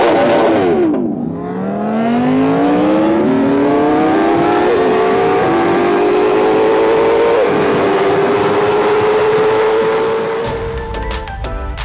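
Motorcycle engine revving hard as the bike climbs along the Pacific Coast Highway, a steady rising harmonic drone that dips between gear shifts and stays loud and close throughout, with no talk.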